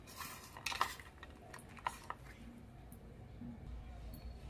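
Corn kernels are tossed with salt, chili powder and spices in a bowl. Quiet, intermittent clinks and scrapes of a spoon against the bowl come in small bursts, with faint voices in the background.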